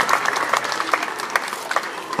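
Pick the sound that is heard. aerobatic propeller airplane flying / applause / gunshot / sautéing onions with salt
applause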